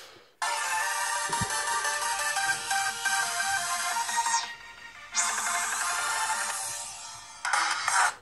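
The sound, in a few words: Oukitel C12 Pro smartphone loudspeaker playing a sound test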